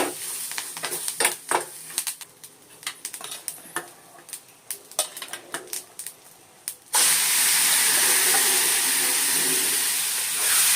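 Spices for a tempering crackle and pop in hot cow ghee, scattered sharp snaps at first, then a sudden loud, steady sizzle as more goes into the pan, with no talking.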